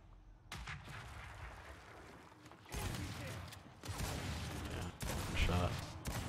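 Shots from a first-person shooter game sound as repeated, close bursts of gunfire over a dense game soundscape, growing louder toward the end.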